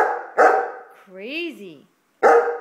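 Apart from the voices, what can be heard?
Bernese Mountain Dog barking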